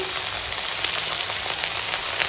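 Spices with ginger-garlic paste, turmeric, red chilli powder and salt fry in a pan with a loud, steady, dense sizzle that crackles continuously and close up throughout.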